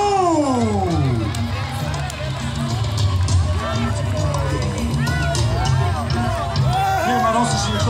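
A crowd cheers a brass band with loud, continuous shouting and cheering up close, dense and unbroken throughout, with voices and high rising calls sweeping over the din.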